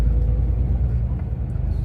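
Truck driving on a road in southern Norway, a loud, steady low engine and road rumble heard from inside the cab, continuous throughout.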